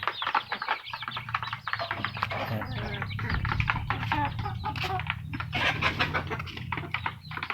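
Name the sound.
chickens clucking, native hen with her chicks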